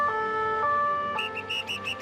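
Emergency vehicle siren on the Paris ring road, sounding close with a sustained tone, then a rapid warbling pattern over low road rumble.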